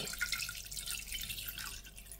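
Water runs steadily into a saucepan, a continuous hissing splash of pouring liquid with no voices.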